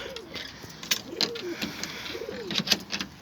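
Bango pigeons cooing inside a coop, several close, repeated throaty coos in a soft rolling rhythm over light rustling.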